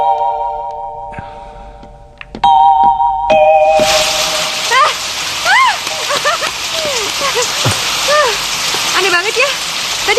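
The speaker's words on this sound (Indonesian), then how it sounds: "tiba-tiba jadi hujan sekarang." Heavy rain starts suddenly and falls as a loud, dense hiss, after a few sparse tones at the start; voices speak over the downpour.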